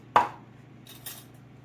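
A lid set back onto a pot of rice on a stovetop burner: one sharp metallic clink, then a softer rattle of the lid settling a moment later, close and fairly faint, no talking.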